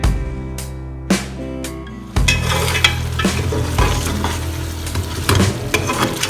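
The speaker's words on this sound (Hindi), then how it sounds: "अच्छी तरह मसाले को फ्राई करें" Spice masala fries in oil with a splash of water for shalgam palak gosht: a few sharp stirring clatters first, then a dense, continuous close sizzle churned by the spoon.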